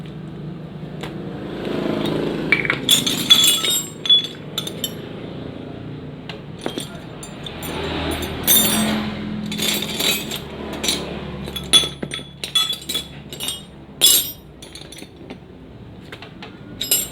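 A metal wrench clinks and taps while cylinder bolts on a motorcycle engine are tightened, scattered sharp metallic chinks in irregular bursts over a quiet room hum.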